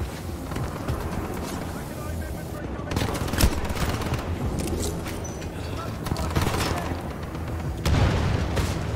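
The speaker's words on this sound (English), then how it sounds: "I apologize for that awful shooting." Gunfire in the video game Titanfall 2, rapid bursts of automatic weapon fire and booming impacts in dense, continuous combat, with a player talking over it.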